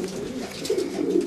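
Racing pigeons coo repeatedly inside a loft in winter, a close, steady run of soft, overlapping throaty calls with no talk.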